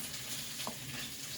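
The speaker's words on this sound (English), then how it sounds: "you can hear the sausage that's over there sizzling away" Sausage fries in a pan across the kitchen, a soft, steady sizzle heard from a distance and at low volume, with a brief scrape of stirring partway through.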